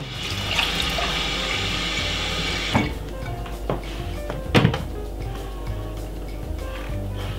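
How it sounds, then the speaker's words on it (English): Water pours into a container of green juice ingredients in a steady rush for a few seconds, then stops. A few knocks and clunks follow against quiet background noise. "Get some more water."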